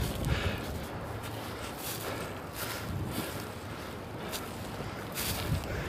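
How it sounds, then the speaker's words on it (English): Strong wind buffets the microphone beside a river, a steady broadband roar with gusty surges throughout and no voices. "And it is stupid windy"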